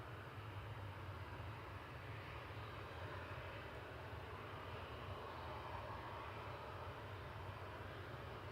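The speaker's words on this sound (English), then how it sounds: "Also heading out to Forteventura is TUI Flight 2662, GTAWS operating this today, a 737-800." A TUI Boeing 737-800 departs Manchester Airport bound for Fuerteventura, its jet engines a faint, distant, unbroken roar that stays level throughout.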